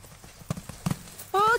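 Horse hooves clip-clopping on a show jumping arena during a riding lesson, a few separate footfalls followed by a short whinny at the end, fairly close and moderately loud.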